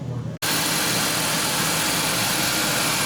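A 2001 Ford Taurus with a P0340 camshaft sensor fault starts up after a quiet moment, then settles into a loud, steady idle close by.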